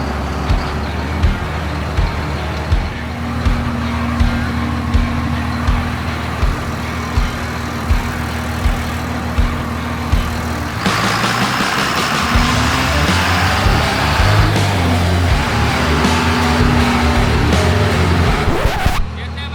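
A twin-turbo engine running on a dyno, a loud steady drone with rhythmic pulses that rises to a harsher, higher roar partway through, with no talking.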